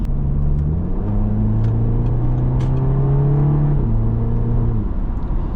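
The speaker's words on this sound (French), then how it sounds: "C'est une voiture qui fait énormément de bruit à l'extérieur" An Audi car engine accelerates through several gears, with a steady droning rumble that climbs in pitch, drops at each shift and climbs again, loud and close throughout, with no voices.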